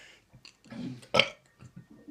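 A man belches loudly during a challenge to burp a hundred times in ten minutes: one strong, close burp stands out, with softer gulping and throat sounds before and after.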